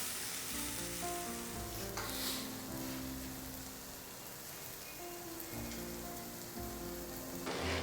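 Roma tomatoes hit a hot pan for a marinara pasta sauce, setting off a loud, continuous sizzle and crackle with a brief surge of spitting toward the end.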